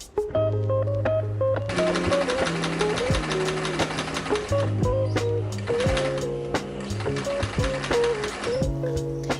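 A sewing machine runs with a fast, continuous mechanical rattle while stitching around the edge of a brocade face mask, heard under steady background music.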